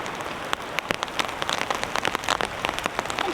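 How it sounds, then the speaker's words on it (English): Heavy rain drums on a camping tent in wild weather, dense irregular patters and sharper drops striking the fabric close overhead, with no voices. "To hear the sounds of the rain on the tent."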